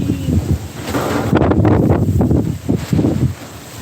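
Strong wind buffets the microphone with heavy, continuous roaring gusts that swell and rustle throughout.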